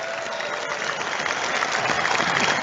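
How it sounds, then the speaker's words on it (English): Studio audience applauding on a talk show, a sustained wash of clapping that swells slightly toward the end, steady and fairly loud. "You're good about waiting for the applause."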